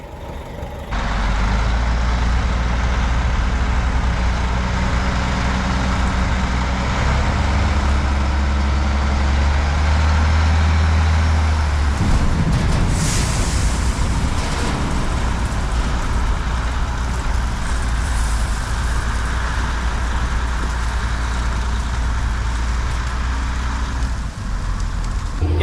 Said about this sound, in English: So it's where the dump truck comes into it again